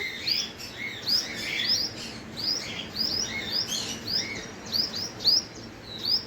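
Small birds circle a squirrel and call continuously, a run of quick high chirps and tweets repeating close by against a soft outdoor background, with no voices.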